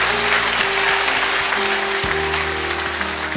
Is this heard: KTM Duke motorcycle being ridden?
no